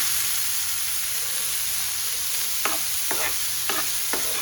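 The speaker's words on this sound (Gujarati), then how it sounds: "એને પણ આપણે સાતળી લઈશું" Boiled green peas sautéed with ginger-chilli paste in a pan, a steady frying sizzle and hiss running throughout, joined near the end by several short scraping stirs of a spoon against the pan.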